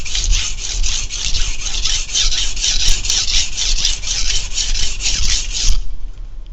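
Steady rhythmic scraping as a sharpening stone is rubbed on a 220 grit stone to remove Sharpie marking, close, gritty back-and-forth strokes for several seconds that stop abruptly near the end.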